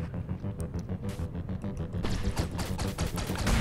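Rapid bursts of gunfire rattle through a boss fight in the Owlboy video game, dense and loud over a throbbing low hum and building in intensity toward the end, with no talk.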